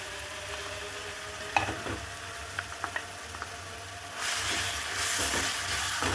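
A paste of roasted onion with coriander seed, cumin and fenugreek frying in a pan for a fish curry, soft sizzling with a few clinks of a spoon, then louder stirring and hiss swelling toward the end, no voices.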